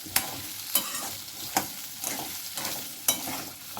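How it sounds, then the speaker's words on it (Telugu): Spicy potato fry being stirred in oil in a pan, with sharp periodic scrapes of the spoon roughly every three-quarters of a second over a steady soft sizzle, close and clear, no talking. "ఇలా కలుపుతూనే ఉండాలండి ఎందుకంటే అతుక్కుంటుంది"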